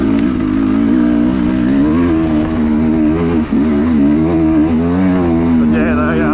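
A 2021 Sherco 300 SE two-stroke dirt bike engine drones loudly and steadily, its pitch rising and falling with the throttle throughout, while a voice speaks over it.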